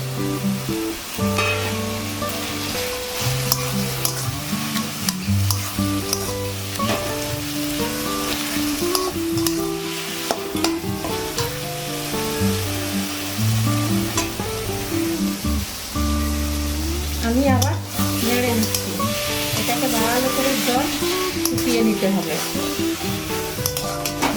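A hilsa fish head frying in a pan for a taro-stem curry gives a loud, dense crackling sizzle that fills the whole stretch, with stirring scrapes and a brief murmur of talk mixed in.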